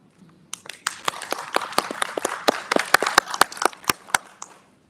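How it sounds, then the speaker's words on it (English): Applause from an audience at a university research competition, many hands clapping close by in a dense, uneven burst with sharp individual claps standing out, building then fading out near the end. "You should give yourselves an applaud"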